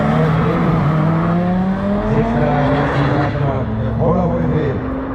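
A 5.2 litre turbocharged Audi 90 race car rated over 650 hp at an auto racing event, its engine droning loud and close with a rising pitch under an announcer's voice.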